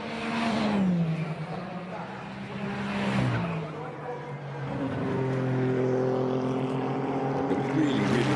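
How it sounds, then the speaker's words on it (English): A Ferrari 499P Le Mans Hypercar and a Ferrari 296 GT3 race car run around the Imola circuit, their engine notes rising and falling as they pass at a moderate distance, with someone talking over them. "The really distinctive sounds of both the Le Mans Hypercar and also the 296 GT3."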